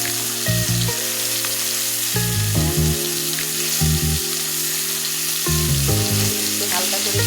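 Fish frying in a covered pan for a dish with ash gourd: a loud, continuous sizzle and spitting of hot oil, with steady crackle throughout and no speech.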